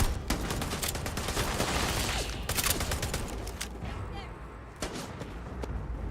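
Dense gunfire crackles through a firefight in the video game Starfield, rapid overlapping shots loud at first and thinning toward the end, amid busy combat noise.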